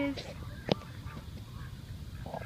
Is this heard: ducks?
yes